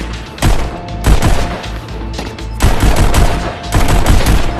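Pistol shots in the Pistol Whip VR game come as loud, sharp reports in quick clusters, several bursts of rapid fire separated by brief pauses, with no voice over them.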